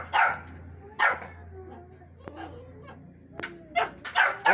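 A dog barks in short bursts, about five or six sharp barks spaced irregularly at moderate distance, with someone speaking between them.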